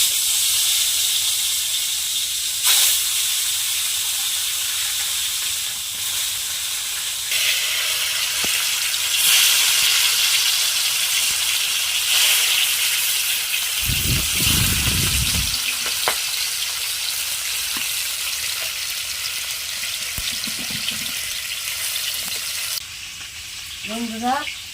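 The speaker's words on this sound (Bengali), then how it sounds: "এবার আমি মাছগুলো ভেজে নেব।" Fish frying in a pan gives a loud, continuous close-up sizzle and hiss lasting throughout, with occasional brief thumps and light clatter.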